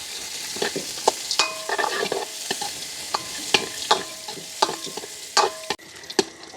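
Peanuts fried in a pan produce a loud, close run of sharp scraping and clattering knocks at irregular intervals over a low crackle, with no voices.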